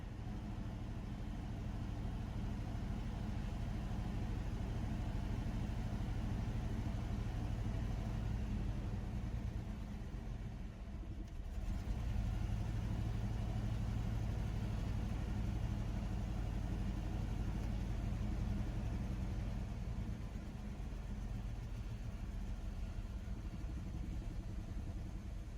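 A 1977 Ford truck engine idles roughly and unevenly, a steady close low rumble with a brief dip near the middle as it nearly stalls before catching again, no voices present.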